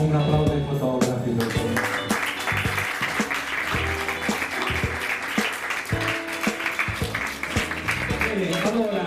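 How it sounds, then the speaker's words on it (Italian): An audience at a beauty pageant applauds steadily throughout, a dense wash of clapping, while music plays and a voice speaks over it. "Vorrei anche un applauso ai fotografi."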